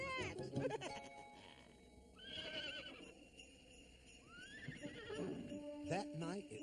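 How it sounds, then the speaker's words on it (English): Cartoon horses neigh and whinny ahead of a winter sleigh ride, two separate high wavering calls amid hoofbeat-like clatter and background sound. "But Frosty, there are 2 horses"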